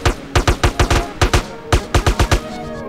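Rapid bursts of gunfire in the video game MTA Battleground, short sharp shots in quick clusters with brief pauses between volleys, loud and close.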